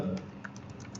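Computer keyboard typing while writing C/C++ code, a few quick light key clicks in a brief burst, soft and near.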